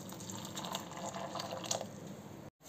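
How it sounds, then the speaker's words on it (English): Hot water pours into a bowl of raw peanuts, a soft, steady splashing and trickling with a few drips, fairly faint, then a brief cut to silence near the end. "I'm going to add hot water into our raw peanut"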